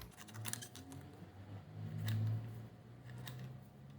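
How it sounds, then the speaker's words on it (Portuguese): Scissors cut out small paper squares for a drawing and craft activity, giving a few quiet, scattered snips over a soft low hum. "você usa uma tesoura para recortar todos esses quadradinhos separadamente"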